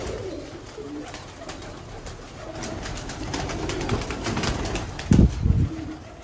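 Pigeons coo in a loft of young racing pigeons, soft throaty calls rising near the end with some wing and shuffling noise, close and moderately loud.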